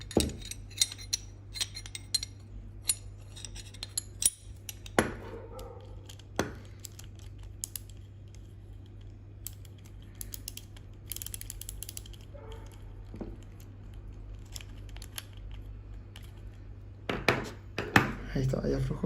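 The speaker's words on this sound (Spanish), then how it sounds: "Acá adentro tenemos que desenroscar con la ayuda del tubo de 12 y sujetando el eje del pedal con la llave de 15." A ratchet with a 12 mm socket loosens the inside of a Garmin Vector 3 power meter pedal while a 15 mm wrench holds the axle, giving sharp, close metallic clicks in irregular bursts over a low steady hum.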